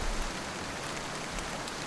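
Heavy rain pours down in a steady, dense hiss during a storm in the mountains, with a low rumble underneath, sustained and loud throughout with no voices.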